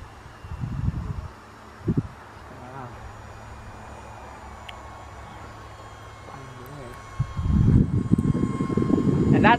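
A small E-flite UMX Turbo Timber RC airplane flies without flaps against the wind, its faint thin electric motor whine drifting in the distance, punctuated by louder bursts of nearby wind and handling noise.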